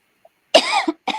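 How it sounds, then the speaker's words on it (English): A person gives a short, sharp cough close to the microphone, followed by a quick second cough fragment, in an otherwise quiet room. "I keep coughing in your ear."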